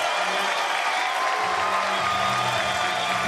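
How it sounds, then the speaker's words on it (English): Crowd applause and cheering erupt at a Mosconi Cup pool match after the 9-ball is potted, a dense steady roar filling the whole stretch with no talk over it. "And the crowd are loving it."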